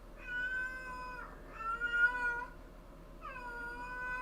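A house cat indoors lets out three long, whining meows in a row, close and fairly loud, with short pauses between each plaintive cry.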